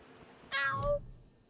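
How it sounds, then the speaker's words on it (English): A cat in the video game Wasteland 3 gives a single clear, high meow lasting about half a second, close and distinct over a quiet background hum. "Shame we can't take the cat with us."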